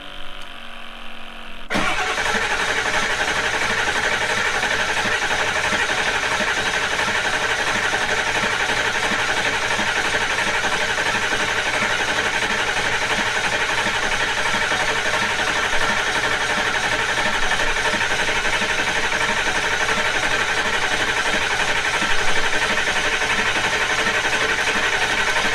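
Ford 7.3 Powerstroke diesel cranks briefly, then catches and settles into a loud, steady, clattering idle that runs on unbroken, heard close up with no talking.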